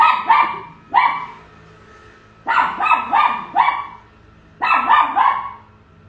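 A pet dog barks sharply in three clusters of quick, loud, close barks, with short quiet gaps in between.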